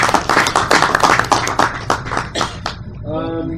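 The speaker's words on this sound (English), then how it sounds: "Well, I think that deserves a round of applause." Brief clapping from an audience at a civic talk, a scattering of hand claps for about three seconds before it fades and a voice begins speaking.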